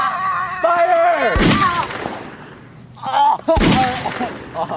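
A volley of rifle fire from British soldiers rings out as two loud, sharp blasts about two seconds apart, each with a rumbling tail, over a faint voice and a background musical tone.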